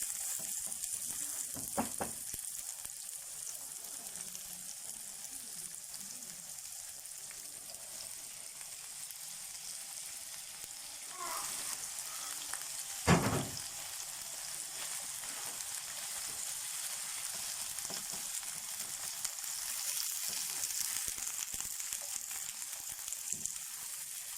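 Chicken pieces for shawarma sauté in a pan with a steady, close sizzling hiss, broken by a couple of brief stirring clatters. No one speaks.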